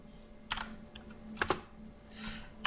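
Code being typed on a computer keyboard in a quiet room, a few short bursts of soft, close key clicks separated by pauses, faint under a low background hum.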